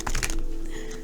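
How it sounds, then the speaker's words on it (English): A deck of tarot cards being shuffled by hand: a short burst of papery riffling and taps up close, trailing off into a quiet room hum. "I should shuffle this."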